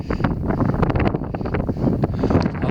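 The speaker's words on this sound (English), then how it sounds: "And it's a cold wind, it really is." Cold outdoor wind on a countryside path buffets the microphone in a steady, low rumbling roar, with no talking.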